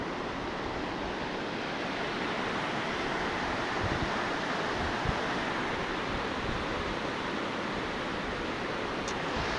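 A river in full flood rushes past a bridge, a dense, loud, continuous roar of churning water that never lets up.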